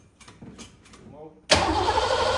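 A Buick Regal engine cranks briefly, then fires and catches into a loud, steady idle that fills the rest of the moment, after a few faint clicks and rustles beforehand.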